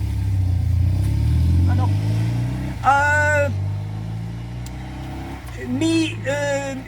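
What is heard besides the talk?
motorcycle passing by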